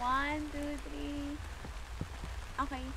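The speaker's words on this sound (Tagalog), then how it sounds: "Inabot tayo ng ulan." Rain falls steadily on an outdoor vegetable garden, a soft continuous patter close by, with people talking over it throughout.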